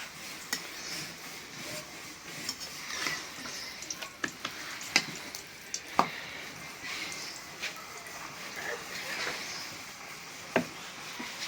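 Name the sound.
paratha frying in oil in a pan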